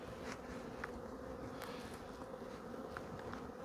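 Honeybees at a hive during queen-excluder work make a dense, steady buzzing swarm drone, close and continuous throughout, with a few faint ticks over the hum.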